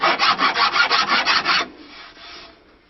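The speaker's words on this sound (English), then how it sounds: "We can use extremely rough sandpaper and work down into grades." Rough sandpaper rubs over a wooden stick dulcimer neck in about eight quick, even back-and-forth strokes, loud and close, then stops abruptly, leaving a faint residual scrape.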